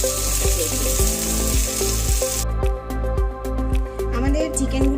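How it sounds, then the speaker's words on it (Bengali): Chicken drumsticks frying in hot oil, four at a time, give a steady broadband sizzle for the first half, then quieter crackle under repeated low knocks and clinks, with a voice talking over it. "চারটে করে চিকেন আমি এর মধ্যে ভেজে নিচ্ছি"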